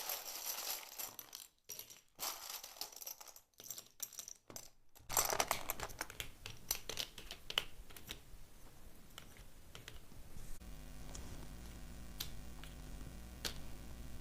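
Tarot cards shuffled by hand in quiet surroundings, with soft riffling flutters and light taps and clicks coming in irregular bursts, close and fairly faint, with no voices.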